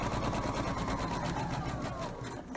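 A home sewing machine stitches around the edge of a pillow made from a shirt, running as a steady, close, rapid mechanical hum that eases off slightly at the end.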